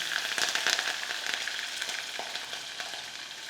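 Green chilli, peanuts and mustard seeds sizzle steadily in hot peanut oil, a dense crackling fry with occasional sharper pops and no voices.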